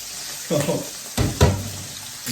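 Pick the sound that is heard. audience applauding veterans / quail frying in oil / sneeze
quail frying in oil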